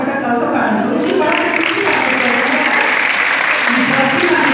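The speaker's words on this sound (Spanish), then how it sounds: "un fuerte aplauso para su hija." An audience applauds at an event, a steady, loud wash of clapping that lasts the whole clip, with a voice speaking over it.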